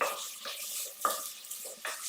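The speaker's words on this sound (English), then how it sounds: "This is sizzling away." Vegetables sizzle steadily in a hot pan with chicken stock, close by, sweating off for a feta and spinach pie, with occasional scraping stirs breaking through the constant frying hiss.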